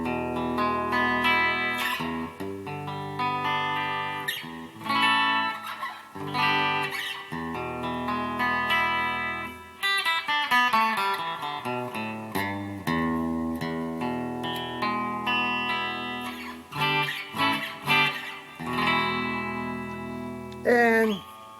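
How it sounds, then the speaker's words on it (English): A Donner DST-200 electric guitar on its bridge pickup plays chords and single-note riffs through moderate gain distortion with a touch of reverb, loud, close and alone. "Now this is the Donner bridge pickup."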